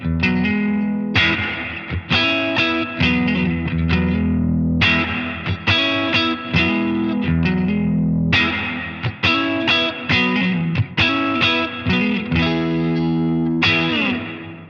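Distorted electric guitar chords strummed in bursts through a NUX Atlantic reverb pedal at full reverb, each ringing out with a washy reverb tail that lingers between phrases.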